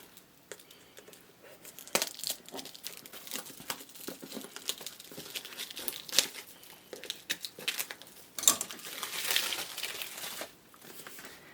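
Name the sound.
unwrapping packaging with scissors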